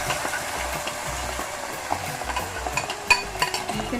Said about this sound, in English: Let's saute the rice nicely so that it's nicely coated with the ghee.